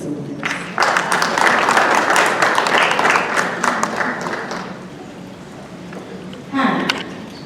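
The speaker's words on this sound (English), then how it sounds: "Please, let's clap." Audience applause at a women's dialogue event, a crowd clapping briskly for about four seconds then thinning out, with a short voice breaking in near the end.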